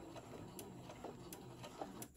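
A sewing machine runs steadily along the edge of fabric for a bowl koozie, a soft mechanical whir with faint periodic ticks, moderately quiet and alone.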